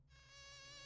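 Bees in the CD-i Zelda game give off a loud, steady synthetic buzz, a droning tone that swells in and holds without pause.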